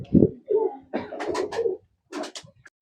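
Pet pigeons in a loft coo in several low throaty bursts up close, with soft fluttering and rustling between calls.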